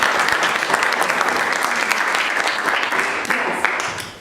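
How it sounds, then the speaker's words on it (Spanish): Audience applause for Tomás at a farewell gathering, a dense, loud, steady wash of many hands clapping that carries on for the whole stretch with a few murmured voices underneath. "les pido a todos que le demos un gran aplauso a Tomás"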